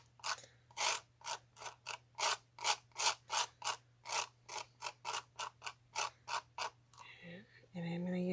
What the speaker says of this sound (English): And then I'm going to scrape off all the extra.